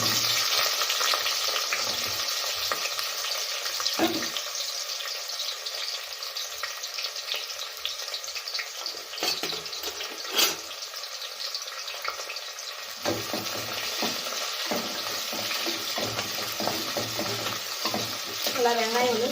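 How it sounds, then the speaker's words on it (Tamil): Sliced large onions frying for jackfruit biryani, a steady close sizzle with a spoon stirring and scraping through the pan in repeated strokes, continuous and fairly loud with no voices. "நம்ம வெங்காயம் சேர்த்துக்கலாம்"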